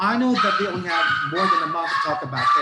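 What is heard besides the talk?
dog barking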